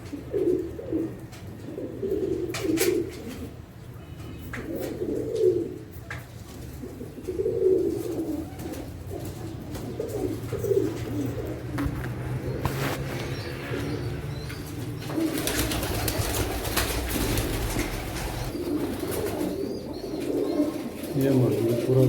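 Pigeons coo in a repeated soft rhythm, close and clear, with wing flutters and someone talking over them now and then.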